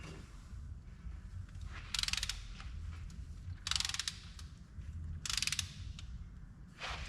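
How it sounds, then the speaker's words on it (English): A torque wrench set to about 45 newton meters ratchets on the cylinder head nuts of a Holden Torana, with three distinct bursts of rapid clicking spaced a couple of seconds apart over a quiet background. "we've got our torque wrench set to about 45 Newton meters for the first round"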